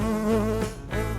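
A bee pollinating a flower gives off a loud, close, droning buzz that holds steady, dips briefly, then resumes, with no other sound around it.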